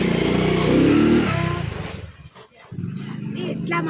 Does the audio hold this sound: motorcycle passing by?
yes